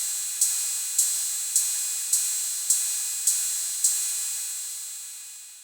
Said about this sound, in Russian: Ну и последний звук — это звук тарелки.